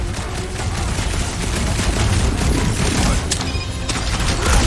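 Dense, continuous gunfire from enemies during a Guardians of the Galaxy video game fight, with rapid overlapping shots and booms sustained loudly throughout.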